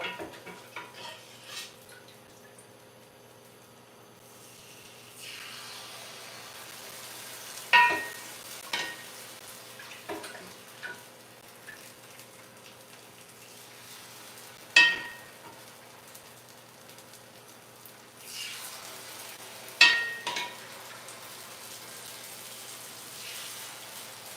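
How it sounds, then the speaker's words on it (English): Food sizzles steadily in a metal pan, with apple and pineapple cooking, occasional sharp clinks and scrapes of utensils against metal; no talking. "Can you hear the sizzling?"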